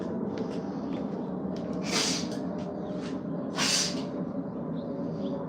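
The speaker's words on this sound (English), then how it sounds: "I gotta blow my nose." Two forceful nasal blows about two seconds apart, hissy and breathy, over a steady background hum.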